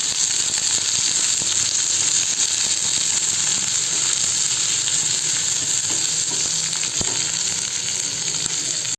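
Onions frying lightly in a pan give a steady, loud, close sizzle that holds evenly for the whole stretch, with faint stirring scrapes and no talking.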